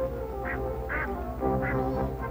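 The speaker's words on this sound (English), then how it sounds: "Quack, quack, quack." A duck quacks several times in a slow, evenly spaced series of nasal calls over a steady low background hum, with no talking.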